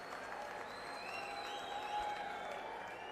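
Applause from a crowd at an Aam Aadmi Party political rally in Adampur Mandi, Haryana, heard as a fairly faint, steady patter of clapping with some crowd noise and a faint tone over it.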